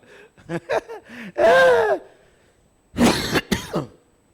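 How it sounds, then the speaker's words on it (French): A man clears his throat and coughs in a short burst, then after a pause gives two more rough coughs, close and fairly loud, in the middle of a French-language church sermon. "Il faut que je tousse un peu d'abord."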